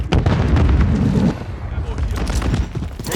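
Heavy gunfire in Call of Duty Modern Warfare 3, a loud close barrage of overlapping shots and booms, densest at first and then easing into scattered bursts, with game voices calling out over it.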